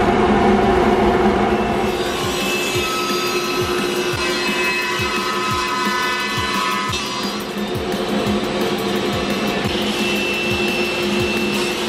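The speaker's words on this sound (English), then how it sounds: "First, let's turn on the vacuum system." A workshop dust collection vacuum system runs beside a Laguna Fusion 2 table saw, giving a loud, steady whooshing roar with faint regular ticking underneath and no voices.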